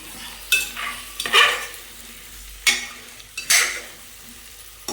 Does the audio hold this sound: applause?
no